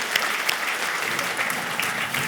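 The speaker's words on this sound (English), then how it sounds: "everyone's clapping, I'll do it too." A crowd at a medium's live audience show claps continuously in a full, even wash of applause with scattered sharper claps, heard alone and fairly close.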